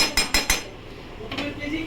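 A metal lid clanks onto a cooking pot of aloo posto on a stove, three quick sharp clinks followed by a softer rattle as it settles.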